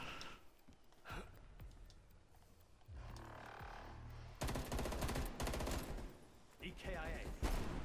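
Snub-nosed Magnum revolvers fire in Cold War Zombies in scattered sharp bursts, mixed with other gunfire and game noise that grows louder toward the end.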